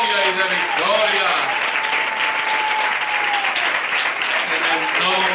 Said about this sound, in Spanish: Recibe este aplauso de gloria y de victoria